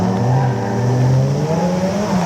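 Nissan GT-R R34 four-door engine revving at a track drift day, a loud steady drone with a slowly rising pitch that carries through the whole stretch, no voices over it.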